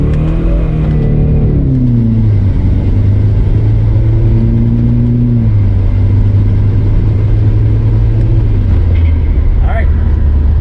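Subaru WRX with a CVT in manual mode, 2015 or later, pulling hard as engine tone climbs, drops at shifts and climbs again in steady steps, loud and continuous from inside the car.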